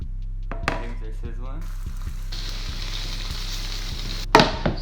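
Four eggs cooking with meat in a pan for an omelette make a constant sizzle beneath a low steady hum. A brief clatter of a spatula follows near the end.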